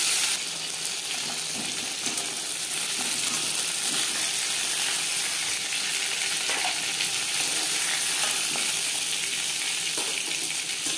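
Katla fish frying in refined oil after being turned to the other side, a constant fairly soft sizzle and hiss with occasional faint clicks, steady throughout with no talking.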